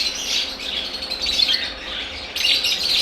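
A caged pair of lovebirds chirps constantly, a dense stream of shrill, high chirps and squawks nearby, briefly thinning before surging back louder.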